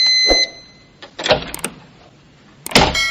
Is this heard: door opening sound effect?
yes